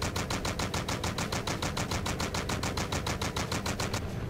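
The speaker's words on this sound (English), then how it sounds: "I got a Gatlin for it, so we're good" Rapid, unbroken Gatling gun fire in the shooter game ET Armies, a loud, evenly spaced stream of shots at a high rate lasting about four seconds.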